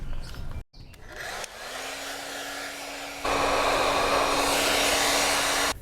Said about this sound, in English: let's go ahead and grab the hairdryer.